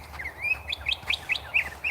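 Songbird chirping outdoors, a rapid series of short, high tweets repeating close together over a low background rumble.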